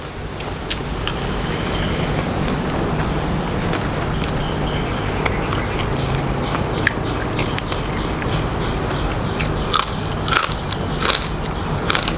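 Crunchy red ant egg salad, a spicy Thai dish, being chewed up close, with steady moist crunching and crackling bites throughout and no talk.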